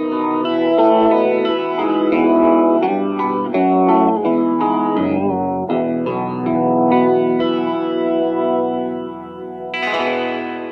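An electric guitar played through a BOSS MO-2 Multi Overtone pedal rings out in thick, shimmering chords with a detuned chorus-like sheen and echo, sustained phrases for about ten seconds with no talking.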